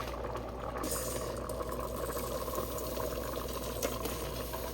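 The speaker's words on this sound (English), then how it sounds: "I'm gonna go ahead and add in my rice, then we'll gauge how much liquid we need to add" Liquid bubbles at a steady boil in a pot as rice goes in, a continuous close sizzle and simmer with faint clatter.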